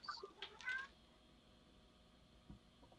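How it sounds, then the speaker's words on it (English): A domestic cat gives a brief meow or two at the start, faint against a quiet, low background hum, then the rest stays still. "That was my cat."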